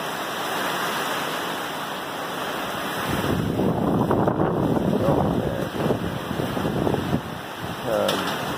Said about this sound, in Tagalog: Binabayo ang ating paligid ng hangin na to.